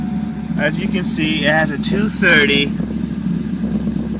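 A car engine fitted with a 237 cam, started cold, idles steadily underneath, with a person talking over it most of the time.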